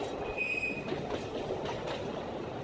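A train climbing uphill on the Alishan line rumbles steadily along the track with a brief high wheel squeal at the start and soft rhythmic clatter, nearby and continuous.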